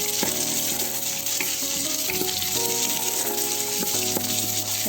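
Garlic frying in oil in a pot while lamb biryani is being cooked, a steady close sizzle with stirring clatter throughout and no voices.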